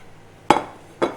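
A steak set down with tongs onto a wooden board: two sharp knocks about half a second apart, fairly close, the first louder, with a faint ringing tail and no talk.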